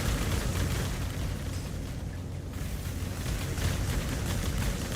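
Meteor tower explosions from the video game Path of Exile form a dense, continuous barrage of booming, crackling blasts that hold steady and loud throughout, with no speech.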